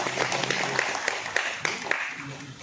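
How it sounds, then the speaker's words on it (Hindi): Office staff applauding at a retirement farewell, moderately loud steady clapping from a small group, with sharper individual claps standing out and voices underneath. "हम चाहते हैं कि एक जोरदार तालियां जो है उनके पक्ष में किया जाए"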